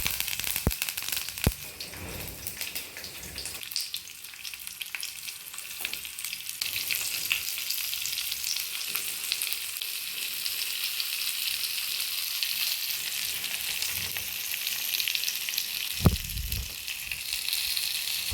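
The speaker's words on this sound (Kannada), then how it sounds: "ಇವಾಗ ಫ್ರೈ ಮಾಡೋಕ್ಕೆ ಸ್ವಲ್ಪ ಕರಿಬೇವು ಹಾಕೋತಾ ಇದ್ದೀನಿ" Fish frying in hot oil with curry leaves added for a coastal fish fry, giving a steady, close sizzle throughout with a few sharper crackles and pops, with no talking.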